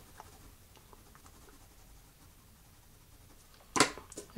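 A pencil shades the shadow beneath a sphere on paper in faint, light scratchy strokes, followed by a brief louder rustle near the end.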